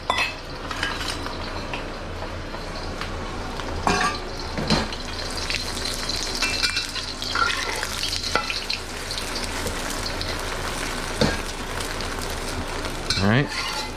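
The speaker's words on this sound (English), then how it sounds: "our wok is smoking hot. So now we're gonna add quite a bit of oil for this egg" An egg fries in a generous pour of oil in a smoking-hot wok for chicken and egg fried rice, a loud steady sizzle and crackle running throughout, broken by occasional sharp clinks and scrapes of a utensil against the metal.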